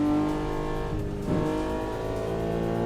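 Cars on a highway in the Assetto Corsa racing game, a loud steady engine drone with layered tonal whine that dips briefly, then swells back as traffic passes close.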